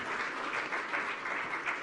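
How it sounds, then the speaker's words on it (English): An audience at a women's economic empowerment panel at a conference claps steadily as the speakers leave the stage, a continuous wash of applause from a sizable crowd with no talking over it. "let's give them another round of applause"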